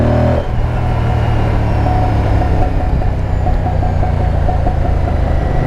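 A Moto Guzzi Stelvio motorcycle rumbles at speed in third gear, its engine and exhaust a loud, close, continuous drone with a rhythmic throb and wind noise.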